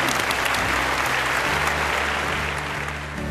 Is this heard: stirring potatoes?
no